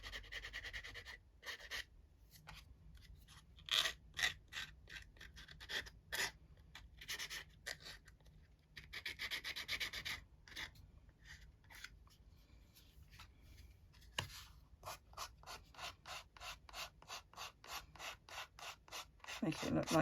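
An emery board is scraped over a vintage wooden box to distress it, producing close, quiet rhythmic rasping strokes that turn into a faster run of short back-and-forth rubs.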